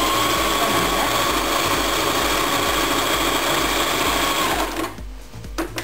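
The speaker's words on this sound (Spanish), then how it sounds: "Pasamos nuestra costura." A sewing machine runs fast and steady, stitching a seam in fabric for a tissue-box cover, a loud continuous whirring buzz that stops abruptly near the end.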